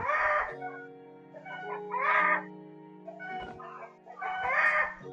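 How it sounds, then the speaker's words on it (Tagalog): Chickens in the Minecraft survival game cluck in three separate bursts over a steady low hum, fairly quiet and with no talking. "So medyo maingay lang yun sa mga manok."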